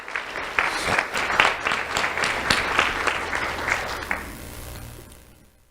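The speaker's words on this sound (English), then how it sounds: "Let's have a round of applause for Rebecca and Grace" An awards ceremony audience applauds students, a broad wash of clapping that builds quickly, holds steady with a few sharp claps, then fades away toward the end.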